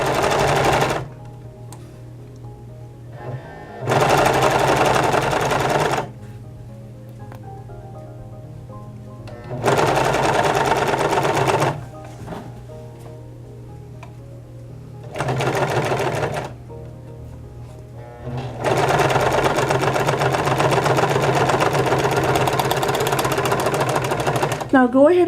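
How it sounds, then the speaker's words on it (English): A serger stitching a seam on a pair of elasticized-waist pants: loud, close machine whirring runs in several multi-second bursts, the last one long, separated by quieter pauses with a low hum. "Serging seam in progress."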